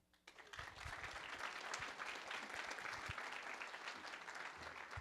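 Loud, sustained applause from a conference audience fills the room as a speaker from the USPTO is welcomed to the stage at DevOpsDays DC 2018, steady clapping throughout with a brief quieter start.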